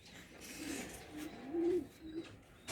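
Soft cooing from double-crested pigeons comes in a few short, low calls against faint background noise, fairly quiet and close, with no talk.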